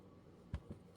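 Two quick, crisp snips of scissors trimming washi tape close by, the first slightly louder, over a faint steady background hum.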